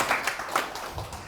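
A short burst of audience applause during a Buddhist special lecture by a monk at the Woljeongsa temple Buddhist college, with scattered claps rising and falling across a second.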